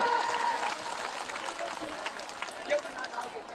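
A crowd at a Banjara community protest march in Beed claps steadily in a dense, even wash of applause, with a voice over a loudspeaker talking through it.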